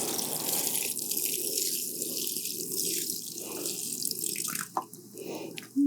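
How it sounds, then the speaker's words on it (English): A watering can pours water into a DIY worm composting bin, a steady close splashing and trickling stream that fades into scattered drips near the end. "we're just going to water half the system at a time."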